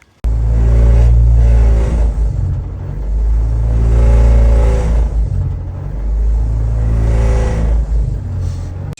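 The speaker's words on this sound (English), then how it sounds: "That weird exhaust noise was coming from this area." A Honda car revving with an odd exhaust noise, heard close and loud as a deep droning roar that swells and fades in three long rev cycles, with no voices.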